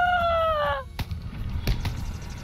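A cat in the video game Lord of the Rings Online gives one clear, close meow with a falling pitch. A couple of sharp clicks or pops follow over quiet background game sounds.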